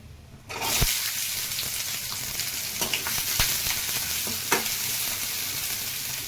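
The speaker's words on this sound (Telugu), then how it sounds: "బాగా వేయించుకోవాలండి." Onions and green chillies fry with cumin in a hot pan, giving a steady loud sizzle that begins abruptly, with occasional spoon taps and stirring scrapes, close and without talk.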